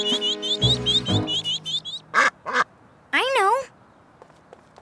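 A cartoon mother duck quacks in a few distinct, rising-and-falling calls among animated character voices and music-like tones.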